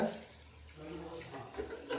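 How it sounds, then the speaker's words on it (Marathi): Water poured into a cooking pot while making a traditional Alibag chicken popti, a steady continuous splashing pour lasting the whole moment, fairly close. "थोडं पाणी टाकूया"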